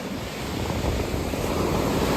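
Sea waves wash ashore at a village beach, a steady broadband surf roar with wind noise buffeting the microphone, loud and continuous with no voices.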